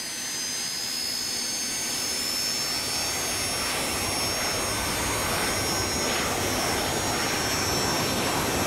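Exterior view of the JetStar in the MSFS 2020 flight simulator, with a continuous, loud jet engine roar and high whine holding steady throughout, no voices.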